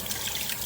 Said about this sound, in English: I'm just going to run water through it again.